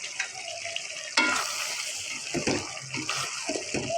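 Chital fish pieces drop into a hot pan of flat beans, setting off a sudden loud burst of sizzling and spattering that continues with close stirring scrapes and crackle.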